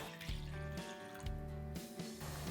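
Water is poured into a mixing bowl for steamed bun dough, giving a soft, faint splashing trickle in a few brief surges. Gentle background music plays under it, with no talking.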